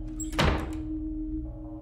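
A house door is pulled shut with a single solid thunk, followed by a low steady hum filling the rest of the short moment.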